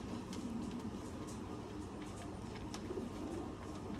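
Pigeons coo softly and steadily in a loft, with faint low calls under a constant background hum and no voices.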